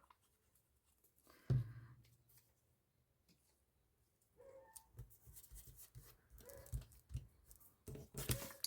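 A single piece of paper is torn off sharply, followed by quieter rustling and handling of paper scraps, with faint scratchy sounds in between.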